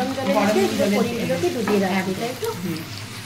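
Paneer pieces lightly frying in a pan, a steady soft sizzle with occasional stirring scrapes, heard under a person speaking throughout.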